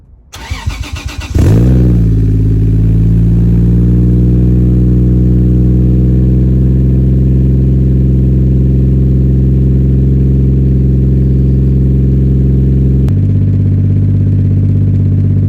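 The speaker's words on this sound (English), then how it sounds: "this is what the car sounds like with the current exhaust right now." A Toyota JZX100 Tourer V with its stock exhaust cranks briefly and fires up, then settles into a loud, steady idle that drops slightly in pitch near the end, with no talking.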